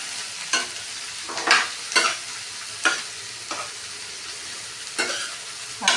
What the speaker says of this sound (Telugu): కారకాయ ముక్కలు వేసుకున్నాం,